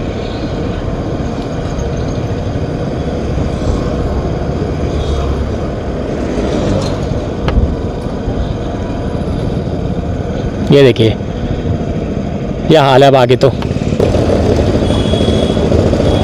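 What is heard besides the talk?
motorcycle engine while riding into Haldwani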